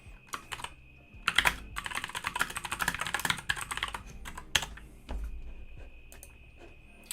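Steady clattering keystrokes on a computer keyboard, close and fairly loud, with irregular quick runs and occasional heavier key presses, alone with no talk.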